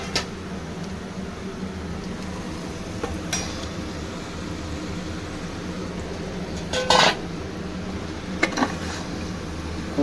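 Mutton is tipped into a cooking pot and stirred, giving faint scrapes and a few metallic clinks over a steady background hum, with one louder clatter midway.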